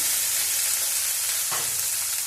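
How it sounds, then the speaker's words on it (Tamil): Small shallots and garlic fry in oil in a pan, a steady close hissing sizzle throughout with a brief stir or scrape partway through. "வெங்காயம் வந்து பொன்னிறமாக வறுப்படணும்"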